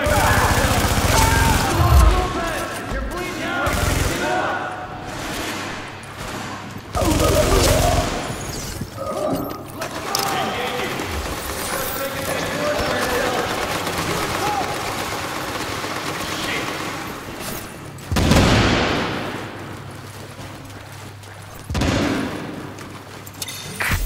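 Gunfire in The Division, a third-person shooter: bursts of loud shots and heavy booms come in clusters around a constant rumbling game backdrop, with quieter stretches between the volleys.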